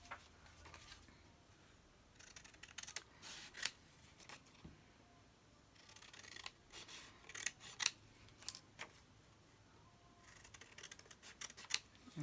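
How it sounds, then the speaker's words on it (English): Scissors snipping through printed tracing paper in quiet bursts of crisp, rasping cuts, with short pauses between runs of snips. "I'll just trim, cut out one of these."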